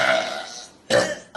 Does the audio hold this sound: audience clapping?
no